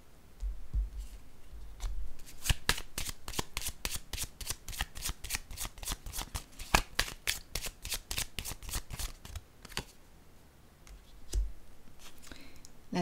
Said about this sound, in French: je vais déposer une carte sur